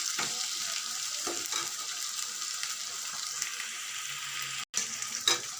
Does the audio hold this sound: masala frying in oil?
yes